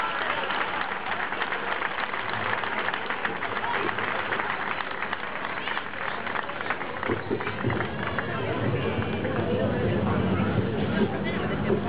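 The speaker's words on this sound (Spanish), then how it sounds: "Un fuerte aplauso para ella." Sustained applause from an audience honoring a woman, a university publishers' union press officer, at a town festival proclamation in Almonacid del Marquesado. Dense, steady clapping fills about twelve seconds, with crowd murmur mixed in.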